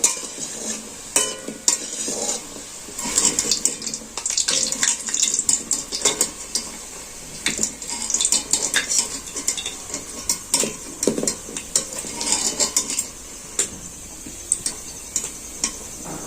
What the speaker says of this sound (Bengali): আমি অল্প আঁচেই কিন্তু ধীরে সুস্থে ভেজে নেব